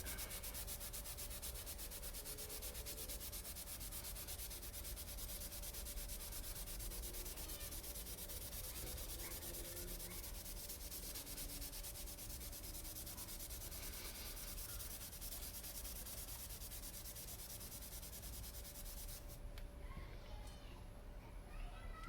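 Steady abrasive scraping of a 60-grit sanding pad worked over rusty brake lines, continuous and close for most of the stretch before cutting off near the end.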